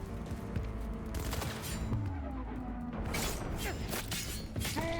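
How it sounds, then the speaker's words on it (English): Dense, continuous gunfire from a Cyberpunk 2077 firefight, with rapid bursts and crashing impacts layered over the full length; a voice briefly breaks in amid the shooting. "Keep shooting."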